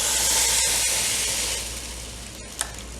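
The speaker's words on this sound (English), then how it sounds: "Listen to that sizzle." Balls of arepa dough cooking inside a closed electric arepa maker, giving off a loud steady sizzle and steam hiss that slowly fades a little, with a faint click near the end.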